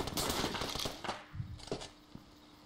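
A quick burst of sharp gunshots in the game Brain Out, several rapid cracks up front, then a few sparser shots trailing off, fairly quiet overall.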